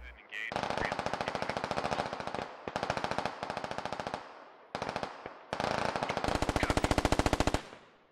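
Automatic assault rifle fire in the military shooter game Squad, loud rapid bursts in several long strings separated by short pauses, close and sustained.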